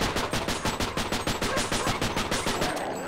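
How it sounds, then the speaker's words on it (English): Rapid, evenly spaced bursts of gunfire from a trench gun in the shooter game They Hunger, a loud continuous volley of about sixteen shots over three seconds with no talking. "I just have this fucking trench gun"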